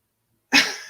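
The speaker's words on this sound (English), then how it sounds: "Obviously, he's barking a lot." A single sharp dog bark breaks the silence midway, loud and close, then trails off quickly in an indoor room.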